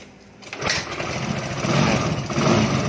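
A Suzuki Nex scooter's small engine catching and settling into a steady, buzzing idle, close and fairly loud, running on alone with a slight rise in intensity.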